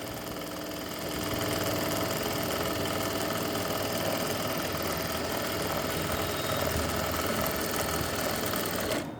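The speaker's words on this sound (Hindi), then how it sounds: "मशीन की स्पीड ज़्यादा, थोड़ी सी कम कर लूँ। इस तरह से सिलाई लगाते हैं।" A sewing machine runs steadily as it stitches a straight seam on a blouse belt, its motor humming with a continuous mechanical whir that sets in after a second and holds at an even, close, moderately loud level throughout.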